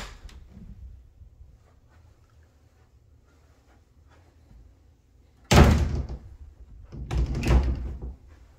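Double closet doors in a bedroom of an Antares Homes Concept 2186 house in Heartland, Texas are opened and shut, giving two loud, close wooden thumps a second or so apart after a quiet stretch of room tone.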